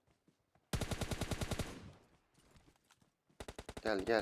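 Rapid bursts of automatic gunfire in PUBG Mobile Lite: a long loud rattling volley, a quieter stretch, then another close burst, with a voice speaking briefly.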